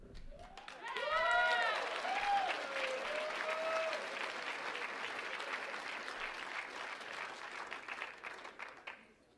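Audience applause and cheering in a debate hall breaks out after a remark, with whoops and shouts rising early, then settling into sustained clapping that fades toward the end.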